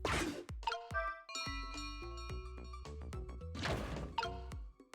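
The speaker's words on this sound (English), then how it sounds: "So we need to ring the bell," A bell rings in the video game Ghost Trick, its clear ringing tones sounding repeatedly amid clanks, knocks and crashing noises, fairly loud and with no talking.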